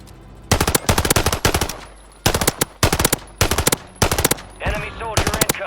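Loud bursts of Glock and Draco gunfire in the video game Warzone, several rapid strings of shots separated by short pauses, with a brief in-game voice near the end.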